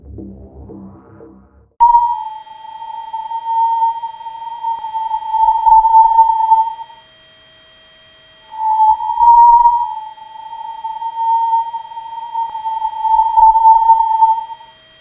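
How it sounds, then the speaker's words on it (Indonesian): A steady high electronic tone from a plasma Langmuir wave recording in the solar wind sounds on and off, holding for several seconds, breaking briefly, then resuming, with faint low rumbles beneath. "Rekaman audio frekuensi tinggi ini dibuat dari gelombang Langmuir."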